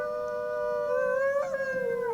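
A single wolf in the Wolf Quest video game lets out a long, sustained howl that bends in pitch partway through, clear and prominent with no talking over it.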